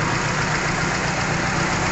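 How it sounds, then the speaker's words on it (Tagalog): A Toyota Altis 1.6 engine idles roughly nearby with a dense, rumbling drone and a slightly uneven, knocking texture throughout. "napansin natin ngayon na ang andar ng makina ay parang nagpalak-palak"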